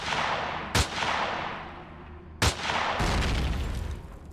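Enemy gunfire in the Empyrion Galactic Survival video game lands as two sharp, loud blasts a couple of seconds apart over a dense noisy wash, with a harsher rattling burst closing it out.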